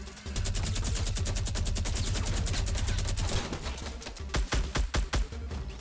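Minigun in Fortnite fires a sustained rapid burst for about three seconds, followed by several separate heavier shots, loud and close with no talk.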